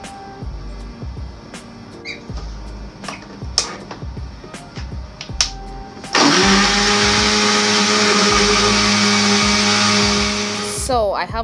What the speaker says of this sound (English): I have to remove the sound of this blending machine so that it won't disturb you guys